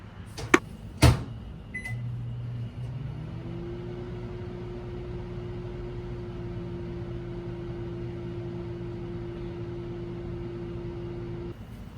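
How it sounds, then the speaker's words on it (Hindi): A microwave oven runs steadily for about ten seconds, heating a homemade mawa (khoya) mixture: a low, even hum with a faint higher tone, opened by a few sharp clicks and beeps of the controls, with no talk. "अब इसको दोबारा माइक्रोवेव में रखेंगे, I promise for last time 30 second के लिए।"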